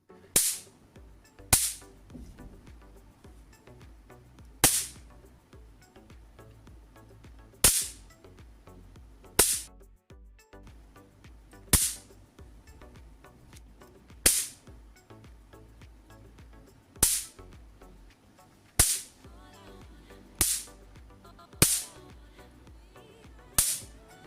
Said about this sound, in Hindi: दोस्तों आप इसके स्पार्क की आवाज़ सुन सकते हो, काफ़ी हाई इसका स्पार्क है।